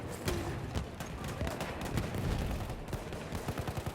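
Rapid bursts of gunfire from the video game Battlefield crackle in quick succession, with sharp repeated shots and a busy, chaotic battlefield texture throughout.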